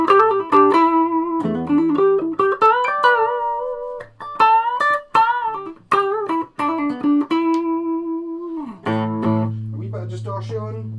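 A Vintage V132 ReIssued electric guitar plays a melodic lead line with a sweeping, swirling phaser tone, notes bending and sustaining, loud and up front.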